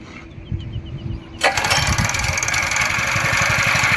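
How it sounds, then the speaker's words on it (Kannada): A single-wheel weeder machine's small engine is kick-started after a quiet lead-in and then catches abruptly, settling into a loud, steady, close putter that runs on without pause. "ಇಂಜಿನ್ ಕೂಡ ಆರಾಮಾಗಿ ಸ್ಟಾರ್ಟ್ ಮಾಡ್ಕೋಬೋದು ನೀವು, ಏನು ತೊಂದರೆ ಇಲ್ಲ"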